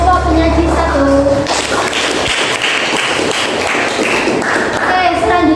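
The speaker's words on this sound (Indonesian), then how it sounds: "Beri tepuk tangan untuk kelompok penyaji 1." Students in a classroom clap together for a presenting group, a loud burst of mixed hand claps and thumps following speech, with voices around it.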